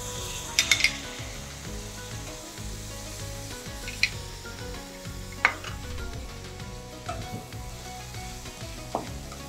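Chicken with soy sauce frying in a pan, a steady close sizzle throughout with occasional stirring scrapes and clinks of a utensil against the pan.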